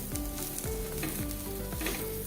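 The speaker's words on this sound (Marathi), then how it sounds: "पाच मिनटं चांगलं परतून घ्यायचं आहे म्हणजे आपला मसालासुद्धा भाजला जाईल" Vegetables and masala sautéing in a pan for Maharashtrian masale bhaat, a dense continuous sizzle with rhythmic stirring scrapes and a faint steady hum underneath.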